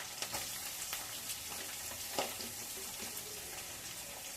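Green chillies and onions fry in a pan with a quiet, continuous sizzle and small crackling pops. No one speaks.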